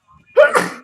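A single sharp sneeze, close and loud, preceded by a brief quiet intake of breath.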